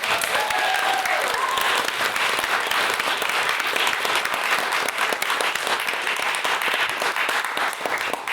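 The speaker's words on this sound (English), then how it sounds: "I think a round of applause is due them" Audience at a university debate society applauds its speakers: a full, continuous round of clapping from a seated crowd, steady and fairly close throughout.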